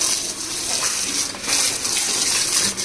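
Tap water gushing steadily into a tub while a dog is bathed, a loud close splashing flow that runs continuously with slight surges.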